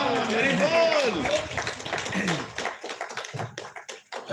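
Satsang audience clapping during a Hare Krishna gathering, a short patter of hand claps mixed with chanting voices, fading into scattered taps.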